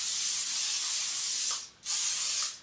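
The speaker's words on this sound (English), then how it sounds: "And then I'm just gonna spray this all over." Hairspray hisses steadily for about a second and a half, stops briefly, then sprays again in a second close, loud burst.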